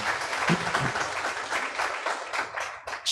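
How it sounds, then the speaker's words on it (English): An audience applauds at a panel discussion event: a short, steady burst of many hands clapping, fairly close, with no speech over it. "A big round of applause for her."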